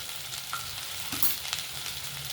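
Turmeric and asafoetida sizzle and crackle in hot oil, a steady frying hiss with a few brief pops and stirring sounds, no talking.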